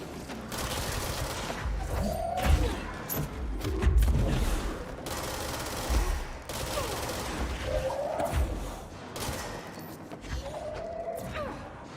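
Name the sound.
gunfire in a video game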